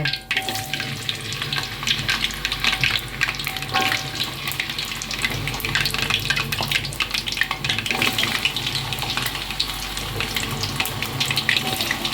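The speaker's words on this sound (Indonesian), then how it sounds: "Sekarang kita goreng kentang." Potatoes frying in vegetable oil in a home kitchen, a steady dense sizzle and crackle that runs continuously throughout, close and moderately loud, with no talking.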